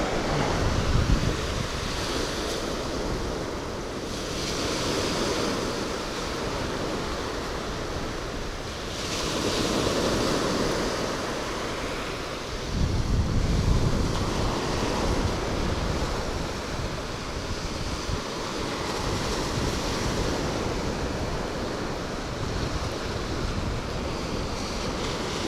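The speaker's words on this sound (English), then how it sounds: "Yeah, the wind's kind of blowing this direction right here." Wind blowing across the open ocean shore during a Florida fishing trip, a steady full-band rush with surf washing underneath, swelling and easing in broad gusts, with no talk.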